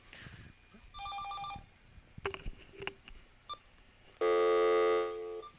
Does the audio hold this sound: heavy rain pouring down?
no